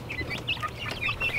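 Chickens cluck close by in a short, steady run of soft calls on a goat farm, with no talking.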